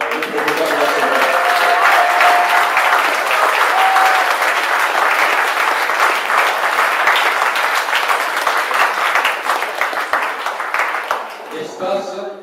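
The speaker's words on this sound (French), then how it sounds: "on peut aussi applaudir les proposants de la semaine" Sustained audience applause for workshop leaders at a weeklong community arts event, dense and loud for about eleven seconds, with a few voices calling out before the clapping fades at the end.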